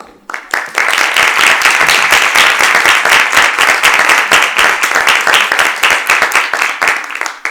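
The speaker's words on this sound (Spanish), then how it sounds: "Por favor, un fuerte aplauso para Gonzalo que nos acompaña hoy." Loud sustained applause from a crowd, dense clapping filling the room for several seconds without letting up.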